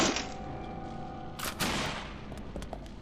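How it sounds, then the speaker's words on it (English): Video game shooting range gunfire: a sustained volley of shots with sharp bursts partway through, fairly loud and continuous, with no talk. "It's a shooting range."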